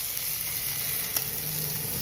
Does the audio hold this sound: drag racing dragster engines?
no